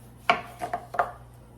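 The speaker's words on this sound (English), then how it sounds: "I'm just going to slice down my oranges" Knife slicing through oranges for dehydrating, four sharp cuts landing on a board in quick succession, close and crisp against a quiet room.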